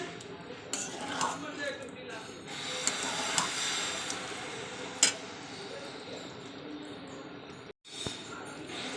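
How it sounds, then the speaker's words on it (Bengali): A spoon scrapes and clinks against a kadai while chicken kosa is stirred and sautéed, with close metallic knocks over a sizzling hiss and a brief pause near the end. "ভালো করে একটু কষিয়ে নেবো।"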